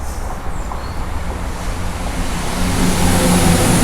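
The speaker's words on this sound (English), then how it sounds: "Look, that's a train!" A train rumbles past, its low steady roar growing louder toward the end, heard from outdoors with no talking.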